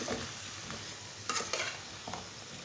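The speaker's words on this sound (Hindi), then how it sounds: "5 मिनट के लिए ऐसे ही मीडियम आंच पर चम्मच चलाते हुए भून लेना" Chunky cut potatoes fry over medium heat while a spoon stirs them, a soft steady sizzle with occasional scraping strokes, quiet and close with no talking.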